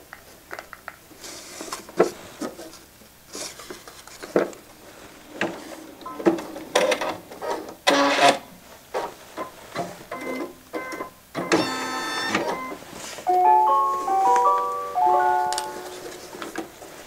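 An embroidery machine stitches a piece-in-the-hoop quilting design, giving near, uneven bursts of rapid mechanical ticking and clatter broken by short pauses, with a brief whirring whine toward the end.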